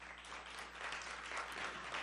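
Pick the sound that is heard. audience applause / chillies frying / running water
audience applause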